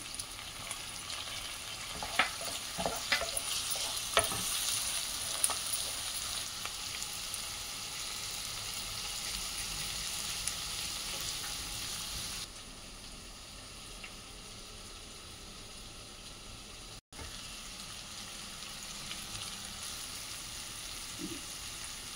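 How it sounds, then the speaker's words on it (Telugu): Onion, green chilli and tomato fry in a pan for a green peas masala curry, giving a steady close sizzle with occasional stirring scrapes. The sizzle softens partway through, and there is no talk. "ఉల్లిపాయ, పచ్చిమిరపకాయ కొంచెం వేగినాయి కదా, తర్వాత టమాటా కోసుకొని ఉంచున్న ముక్కలు అవి వేసుకోవాలి"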